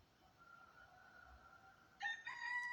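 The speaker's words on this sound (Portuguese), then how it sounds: "O Galo tá cantando de novo." A rooster crows partway through, the call rising sharply after a quiet stretch of low background noise with a faint tonal hum, and it sounds moderately close and clear with no talking.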